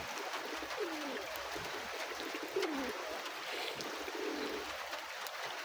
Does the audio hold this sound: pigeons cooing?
yes